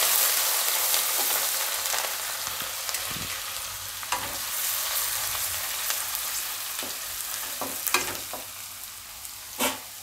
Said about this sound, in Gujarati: હવે આપણે એમાં હિંગ નાખી દઉં અને આદું મરચાં ને લસણ એ નાખી દઉં.